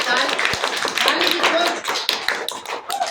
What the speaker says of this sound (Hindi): ताली की कोई जरूरत नहीं है